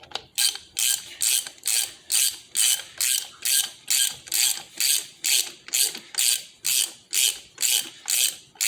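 A hand ratchet with a T70 socket runs a bolt down on a Harley-Davidson primary, giving about fifteen rapid, evenly spaced clicking strokes up close, with brief pauses between swings.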